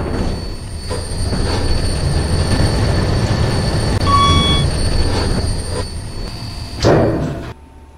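A KONE EcoDisc KSS 280 elevator motor running in a Roblox game gives a loud, steady mechanical rumble with a few brief high whines, building to a thump near the end before cutting off.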